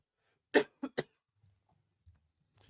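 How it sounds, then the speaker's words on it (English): Three sharp coughs from a person who is ill, in quick succession, close and fairly loud, followed by quiet breathy rustling and near silence. "You hear me coughing in the background."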